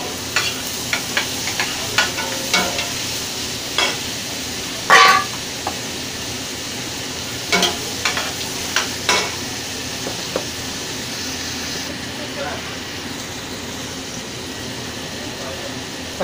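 Tomato sautéing with softened onion in a pan for a beef curry, a steady low frying hiss broken by scattered spoon-scrapes and clinks, with a faint voice and a brief horn-like tone in the background.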